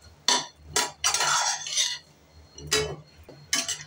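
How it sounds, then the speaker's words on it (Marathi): A spoon stirs and scrapes dry date powder roasting in ghee in a pan, in several separate bursts of close scraping strokes with short pauses between them. "या तुपावर आपल्याला खारीक पावडर भाजून घ्यायची आहे."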